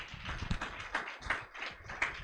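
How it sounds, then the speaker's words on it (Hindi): A church congregation at a Sunday service claps hands together, a quick irregular patter of many palms at moderate distance, fairly faint and continuous. "ताली बजाकर खुदा का धन्यवाद करें।"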